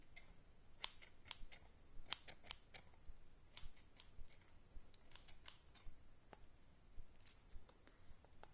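Quiet, repeated snips of scissors cutting through soft foam clay, close by, in an irregular rhythm with no talking.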